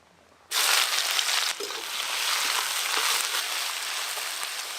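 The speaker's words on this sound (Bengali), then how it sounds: "পেঁয়াজের সঙ্গে আদা রসুন বাটা ভালো করে ভেজে নেব" Onion frying with ginger-garlic paste in a pan for chicken kosha, a loud, steady sizzle that starts abruptly, dips for a moment, then carries on without a break and with no voices.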